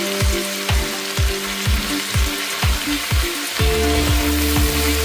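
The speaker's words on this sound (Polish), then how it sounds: "Mieszamy i smażymy około minuty." Garlic and parsley fry in a pan for a bean soup, a steady sizzle punctuated by repeated low knocks of stirring against the pan, close and fairly loud with no talking.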